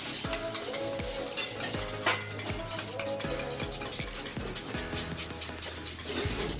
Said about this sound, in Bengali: দইটাকে একটু ফেটিয়ে নিচ্ছি